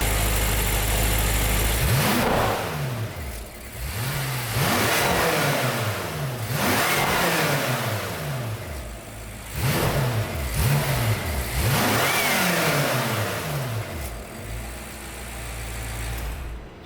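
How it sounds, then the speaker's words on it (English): A BMW M6 twin-turbo engine with its stock intake is revved repeatedly from idle, each blip rising and falling in a series of close, loud rev cycles separated by brief idle pauses. "Let's start with some revs and some before action, and then I'll install them and do the same thing after."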